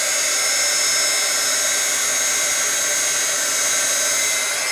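A heat tool melting embossing powder on die cuts blows a steady, loud, unbroken hot-air whoosh, close and alone, with no talking.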